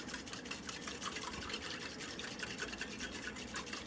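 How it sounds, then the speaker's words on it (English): Milk and sugar whisked in a bowl, a quiet rapid rhythmic scraping and swishing that continues evenly throughout, with no talk. "So just whisk that in so the sugar could kind of dissolve"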